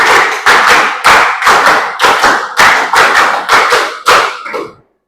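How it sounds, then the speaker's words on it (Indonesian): Schoolchildren in an Indonesian classroom clap a rhythmic pattern together, sharp loud group claps in quick bursts with brief gaps, ending in a softer last clap and then silence. "Tepuk 5 3 kali."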